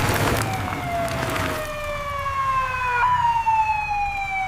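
An ambulance siren rushing through city streets wails loud and close, its long tones sliding down in pitch over a low rumble of road traffic.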